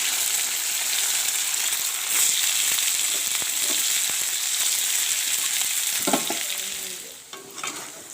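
Paneer pieces fry in hot oil, giving a loud, continuous hiss and crackle, with a few spatula scrapes and stirring knocks toward the end.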